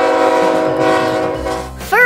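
A long freight train of about 180 double-stack cars rumbles by with a steady, loud, tonal roar. Near the end a horn-like blast briefly cuts in.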